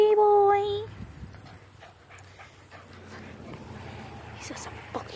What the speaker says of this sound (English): This is an American pit bull terrier.